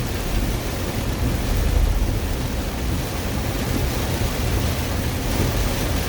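Heavy rain pours in a dense, steady roar with no break, loud and close, like a downpour drumming on a vehicle.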